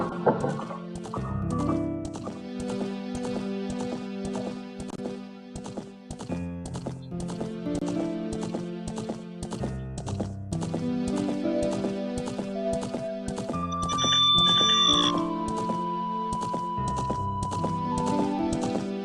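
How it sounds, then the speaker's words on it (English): Hoofbeats of the horse Epona galloping across Hyrule Field in The Legend of Zelda: Ocarina of Time, a rhythmic clip-clop running under the game's background music for the full length, with no talking. "Link riding on his horse, Epona, adult Link, by the way, riding around on his horse, Epona, riding around through Hyrule Field"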